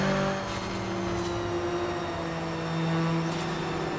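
A car engine in Forza Horizon 3 holds at high revs with a steady tonal whine that dips and rises slightly, loud and continuous throughout with no talk.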